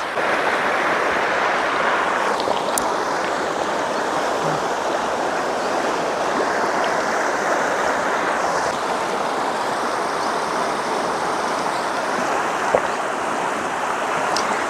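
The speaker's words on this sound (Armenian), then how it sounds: "Ոմանց համար գետի ձայնը անսովոր է, չեն սիրում, բայց ես սիրում եմ" Steady, broadband rush of a flowing river continues without a break, close and fairly loud, with no voices.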